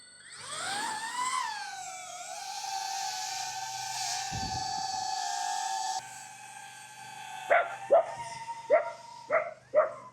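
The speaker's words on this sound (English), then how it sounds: "We've got little doggies." A high whining tone sweeps and holds, then several short, sharp yaps from small dogs ring out in quick succession, somewhat distant.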